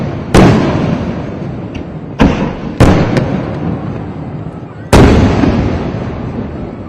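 Sample fireworks at Thrissur Pooram in Kerala: four loud, sharp booming blasts a few seconds apart, each trailing off into a long crackling, rumbling decay over steady background noise.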